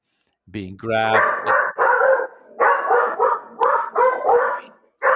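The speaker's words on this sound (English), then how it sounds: "The dogs. There must be a person near the house." Several dogs bark repeatedly at someone near a house, sharp overlapping barks in bursts, starting with a whine and continuing loud and close.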